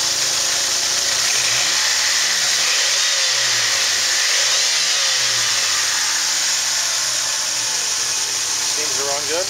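A 2000 Plymouth Voyager with a 2.4 engine, automatic transmission and over 300,000 miles idles steadily at a salvage yard, a loud continuous engine drone with a slight wavering hum.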